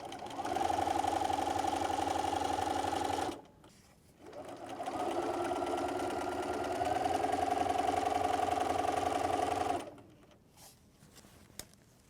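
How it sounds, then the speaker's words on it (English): A sewing machine stitches quilt rows together with a steady, close mechanical whir in two long runs, separated by a brief pause, ending with a few small clicks. "Put it underneath your presser foot and sew all the way to the end."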